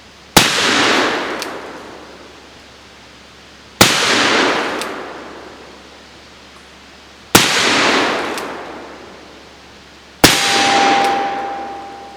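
An 1851 Colt Navy replica cap-and-ball revolver fires four loud shots at a 1-liter bottle, each sharp crack spaced a few seconds apart and trailing off in a long outdoor echo, with a faint ring after the last.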